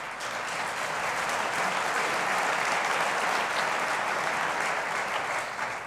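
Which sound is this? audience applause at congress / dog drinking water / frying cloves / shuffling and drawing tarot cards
audience applause at congress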